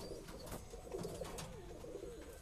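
A Saranpuri pigeon gives low, soft coos in a steady murmuring run, faint and fairly close, over a noisy background with no one talking.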